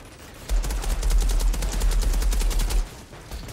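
Gunfire in the video game Outriders: a rapid automatic burst of closely spaced shots rattles for about two seconds, then stops abruptly.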